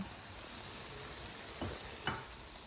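Meat sizzles steadily in a hot pan while tomatoes go in, a continuous close frying hiss with two brief soft stirring clatters near the end and no talk.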